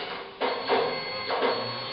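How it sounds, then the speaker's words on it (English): A photo booth printer in an LED kiosk feeds and prints photo strips, giving two short mechanical whirring passes close by over a low hum, with no voices. "the printer will start printing the photos"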